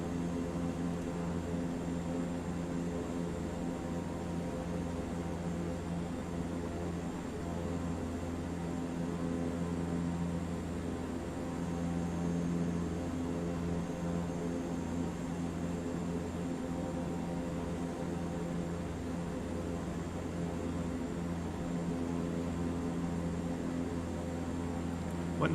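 A Super Scooper water-bombing plane flies in Microsoft Flight Simulator 2024, fully loaded and climbing slowly, its engine drone a steady, loud, unbroken hum that lasts throughout.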